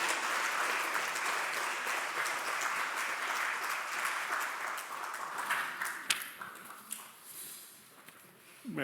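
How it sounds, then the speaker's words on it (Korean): A church congregation claps in encouragement, a sustained round of applause that thins and tapers off near the end, followed by a few scattered claps. "우리 한번 격려 박수 한번 해주시면 감사하겠습니다"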